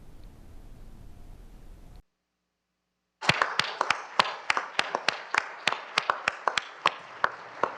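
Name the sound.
applause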